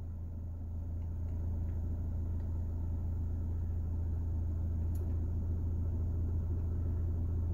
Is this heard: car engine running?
yes